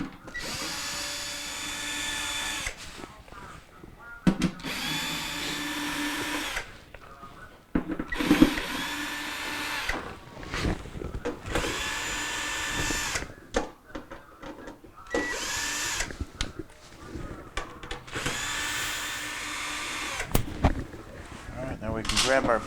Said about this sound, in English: there are 9 1/4-inch screws that go around the perimeter. We're going to go ahead and take those out.